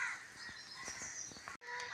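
Several harsh crow caws in quick succession, fairly close and clear, with no voices around them.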